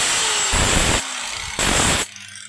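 A power tool grinds the sharp edge and point off a blade in two loud bursts of harsh, gritty grinding, with the motor whirring between and after them.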